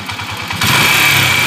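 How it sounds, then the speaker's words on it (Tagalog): A motorcycle engine running roughly, its uneven idle pulsing before it picks up into a louder, steadier buzzing rev, close to the microphone. "Yan po yung andar ng motor ni Bossing"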